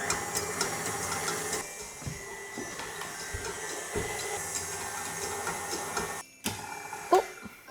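An electric mixer whips cream with vanilla and sugar, a steady continuous whirring hum throughout, briefly dipping near the end with a small knock.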